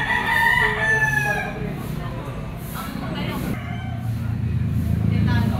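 A yellow-legged lemon bullstag gamefowl rooster crows loudly and close, its long rising call heard clearly at the start and echoed by further crows, with someone talking over the steady background.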